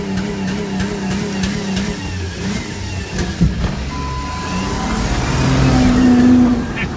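A Ford Super Duty 4x4 truck engine starts and runs, holding a steady mid-pitched drone before revving up louder toward the end, heard close and without talk.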